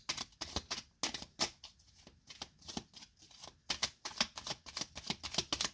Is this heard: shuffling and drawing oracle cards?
yes